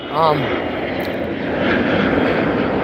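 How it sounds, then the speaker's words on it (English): A large airplane passes overhead with a steady, broad engine roar that swells slightly and holds loud throughout, heard outdoors near a house porch. "Oh, here's a plane. Oh my God, it's such a big plane."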